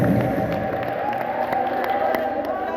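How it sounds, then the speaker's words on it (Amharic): A church congregation erupts in sustained ululation and rhythmic applause, a dense, loud, close wash of high trilling voices and sharp repeated claps running the whole time. "ረዥም እልልታና ጭብጨባ ለዚህ ጌታ"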